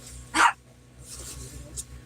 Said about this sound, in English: He's barking at you. He's gone crazy.